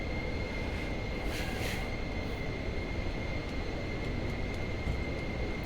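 A Pilatus PC-24 jet flies in harsh weather in Microsoft Flight Simulator 2024, giving a steady, dense engine roar with a faint high whine running throughout, no voices.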